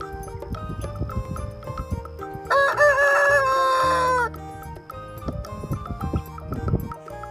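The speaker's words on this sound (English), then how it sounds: "H for hen." A loud rooster crows once in the middle, surrounded by repeated clucking from nearby chickens before and after.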